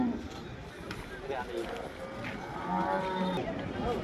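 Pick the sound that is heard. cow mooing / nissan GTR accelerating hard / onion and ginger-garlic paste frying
cow mooing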